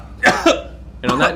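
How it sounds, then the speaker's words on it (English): A person's persistent cough, two short harsh bursts a moment apart, close and fairly loud. "Persistent cough."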